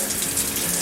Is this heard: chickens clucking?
no